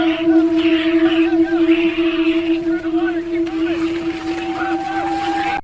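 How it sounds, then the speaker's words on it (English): A boat motor drones steadily as the craft moves through murky jungle water at night, a constant humming tone running underneath the whole stretch. "A boat cuts through murky jungle water at night"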